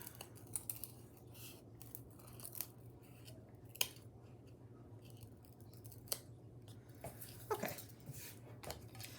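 Scissors trim a foam plate into a stamp shape, making faint, scattered snips and crisp little cuts over a low steady hum, with no talking.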